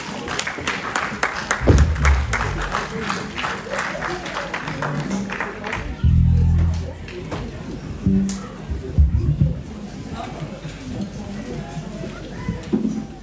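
A church congregation claps and cheers to acclaim the Lord, in rhythmic bursts of applause that come and go under a pastor's amplified preaching.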